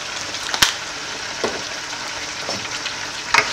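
Stew with herbs stirred in a cooking pot, a soft continuous simmering hiss with a few sharp utensil knocks and scrapes against the pot, close by and without speech.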